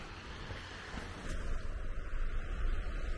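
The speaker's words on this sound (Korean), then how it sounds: "파도의 자갈 구르는 소리." Steady surf washing over a pebble shore, rolling the pebbles with a continuous rough rush, growing a bit louder partway through; no voices.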